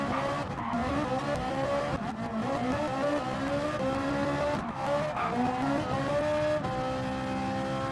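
Race car engine in Gran Turismo Sport, a loud, close whine climbing and dropping through gear changes, with tire squeal and skidding over the revving.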